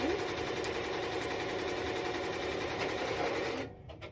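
A home embroidery machine hums and clatters steadily while stitching a reindeer design onto a T-shirt, a close, even mechanical drone that winds down near the end.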